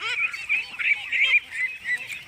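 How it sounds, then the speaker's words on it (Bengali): A flock of ducks calls close by, overlapping honking quacks in an uneven, continuous chorus lasting a couple of seconds. "এই যে একদম পাশ দিয়ে আসছে অনেকই হাঁস"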